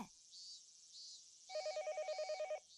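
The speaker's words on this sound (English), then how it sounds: "Just then, the phone rang." In the Higurashi visual novel, a telephone rings with an electronic warble of rapid pulses in one clear burst, loud and close above a soft musical bed.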